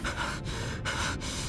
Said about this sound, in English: Panting frantically, I scramble up the cliff on all fours.